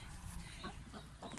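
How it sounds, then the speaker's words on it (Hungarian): Chickens cluck and squawk in short bursts against steady outdoor background noise, fairly close, with several birds overlapping. "Itt vannak a tyúkok"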